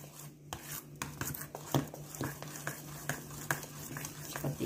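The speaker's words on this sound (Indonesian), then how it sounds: "Nah, ini kita aduk hingga dia merata ya." A spoon stirs thick shrimp batter made with baking powder in a bowl, giving soft rhythmic scraping and tapping strokes at a steady pace, fairly quiet and close.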